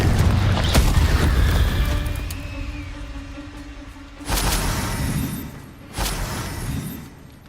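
Confringo blasting spell in a Harry Potter video game, a heavy booming explosion with rumble and debris clatter fading out, followed by two further sharp blasts, no speech.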